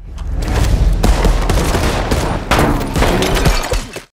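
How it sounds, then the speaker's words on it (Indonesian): A gunfight from a film scene erupts in dense, loud volleys of gunshots and rapid automatic fire that rattle almost continuously, with booming impacts layered over the barrage before it cuts off abruptly. "tiba-tiba Dominic menembak Cash hingga terjadi aksi baku tembak di antara mereka"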